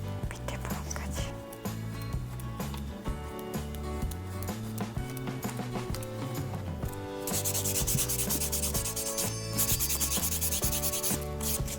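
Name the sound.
nail file sanding a nail extension in a salon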